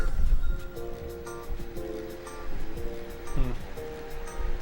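Ocean wave sounds in the video game We Love Katamari, a steady wash of surf under bright, tonal game music with chimes and melodic lines throughout.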